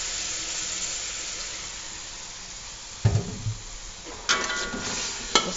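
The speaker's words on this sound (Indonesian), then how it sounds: "kita oseng-oseng biar tercampur rata dan sampai dia mengering" Chicken filling for lemper, seasoned with pepper, salt and broth, stir-fried in a pan: a steady soft sizzle, then a few louder scraping stirs near the end, with no voices.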